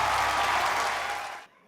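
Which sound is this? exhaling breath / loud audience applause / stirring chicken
loud audience applause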